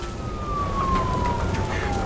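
A police car siren in the video game Nobody Wants to Die wails with a single long tone sliding slowly downward, set against a rumbling, noisy background.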